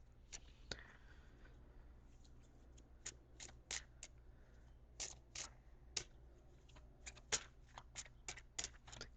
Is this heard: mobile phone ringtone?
no